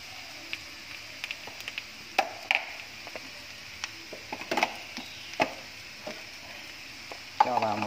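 Bamboo shoots being stir-fried in a pan for bún măng vịt, with a low steady sizzle under repeated light scraping and tapping of a utensil against the pan, close and irregular.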